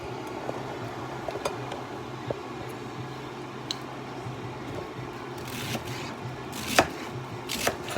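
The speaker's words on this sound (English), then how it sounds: "Cutting up the other part of the cabbage." Knife chopping purple cabbage on a board, a steady run of close, crisp cuts over a low kitchen hum, with a few louder thumps near the end.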